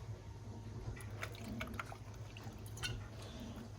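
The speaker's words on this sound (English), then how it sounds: "we're going to start with 1 ounce of banana liqueur" Banana liqueur trickles into a jigger or glass for a cocktail, a faint, short liquid pour with a few soft drips over a steady low background hum.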